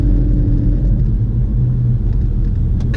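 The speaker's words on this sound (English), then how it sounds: "I'm pretty sure this car's doing it all in second gear at 7 miles an hour" A Porsche creeps along slowly in second gear, its engine giving a deep, steady low rumble close by with no revving.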